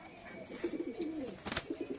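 Soft, repeated pigeon coos rolling in a steady rhythm, close and fairly quiet, with a brief rustling burst in the middle.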